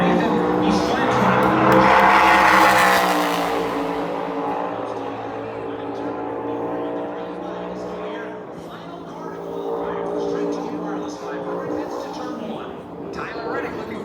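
A NASCAR Cup race car on a qualifying lap at Phoenix Raceway roars past at close range, its engine note climbing and falling as it works through the corners, with a commentator talking over it throughout.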